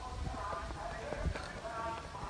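A colt's hooves clop at a slow walking pace on a hard surface, close by, with a murmur of voices and background noise around them.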